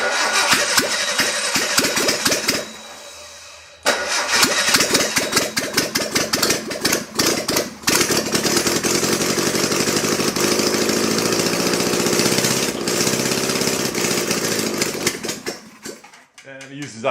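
A 1958 Volkswagen engine cranks and catches, then runs and revs with a steady buzzing drone up close, dropping off near the end, as someone talks over it.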